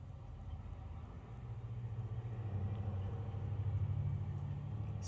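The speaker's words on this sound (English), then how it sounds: "there's a bunch of trucks going down my street for some reason" Trucks drive down a small residential side street, a faint low engine rumble that grows steadily louder as they approach, heard from indoors with no speech.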